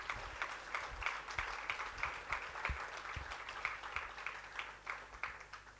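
An audience applauds the Minister of Finance and Public Enterprises at a live budget dissection event, a steady, fairly distant wash of clapping that continues throughout.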